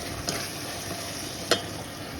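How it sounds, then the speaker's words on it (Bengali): Small fish frying in oil in a pan on a home kitchen stove, a continuous crackling sizzle at close range with two brief sharper pops. "এদিকে মাছগুলো ভাজা হয়ে গেল"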